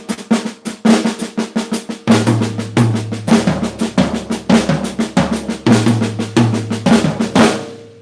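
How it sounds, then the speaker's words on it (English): Close, loud drum kit playing a flam-driven seven-note lick over triplets, with dense repeating stroke groups and bursts of low bass drum recurring throughout, no one speaking. "So if you were to play this lick over triplets,"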